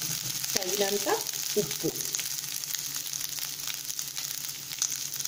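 Rice is tipped into a pan of fried ajwain and sizzles loudly, a steady broadband frying hiss that continues throughout while a person speaks briefly near the start.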